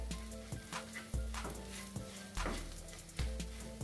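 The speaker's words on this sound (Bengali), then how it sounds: "মশলা ভেজে নেব।" Half-spoons of ground turmeric, red chilli, cumin and coriander fry in oil, making a soft, continuous sizzle with light scraping strokes and a faint steady hum underneath.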